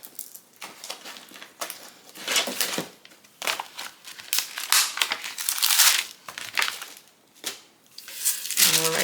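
Sheets of parchment paper handled for a Cricut craft project, crinkling and rustling in close, irregular bursts of varying loudness with brief quiet gaps between.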